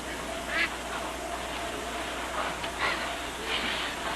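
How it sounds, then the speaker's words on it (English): Several nasal quacks pop out over a steady hiss of background noise, scattered and fairly faint, like a few ducks calling. "It sounds just like there's a flock of ducks in the boxes, doesn't it?"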